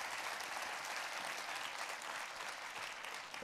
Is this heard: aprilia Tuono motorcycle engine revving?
no